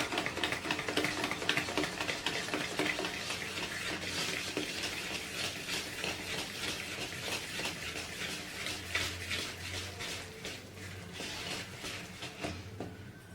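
Sifted maida flour mixed into eggless cake batter in a bowl: a steady run of soft, wet scraping and tapping strokes, close and continuous, with no talk.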